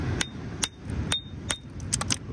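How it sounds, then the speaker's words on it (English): Light hammer taps on a fossil nodule while fossil hunting at a landslide: about six sharp, close taps at irregular intervals, each a bright short click over low background rumble. "I'll just give it a few light taps with the hammer."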